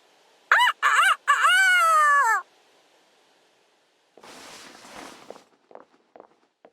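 A character in the Fire Emblem Engage video game uses their voice to imitate a rooster, crowing loudly and close with a few short calls and then a long drawn-out note, followed by quiet shuffling footsteps.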